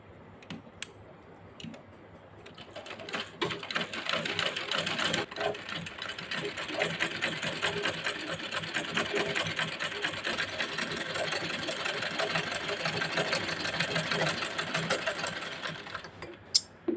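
A sewing machine runs continuously as it stitches children's pants, a close, even mechanical whir with rapid stitch ticking, after a few quiet seconds of fabric handling at the start and clicks near the end.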